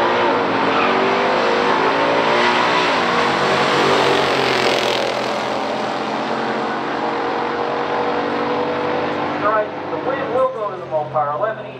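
Engines roar loudly and steadily through a drag race between a 426 Hemi Cuda and a GTO, dense continuous motor noise that shifts near the end, with commentary over it.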